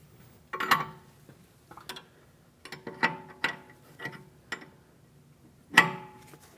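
A ratchet tightens the jam nut on the outer tie rod of a 2016-2025 Chevrolet Malibu, giving several separate bursts of clicking pawl strokes with short pauses between them, close and fairly quiet, no voices.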